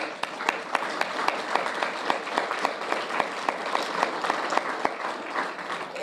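An audience applauds board members at an awards event, dense steady clapping from many hands filling the room for several seconds, with no talking over it.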